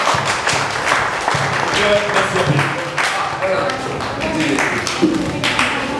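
A crowd applauds continuously at a health talk, with dense, steady clapping throughout and voices faintly audible underneath.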